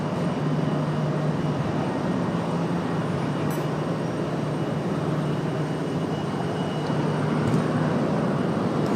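An Alaska Airlines jet at Raleigh-Durham International rolls along the ground, its engines giving a steady, broad whooshing rumble that holds even throughout, with no talk.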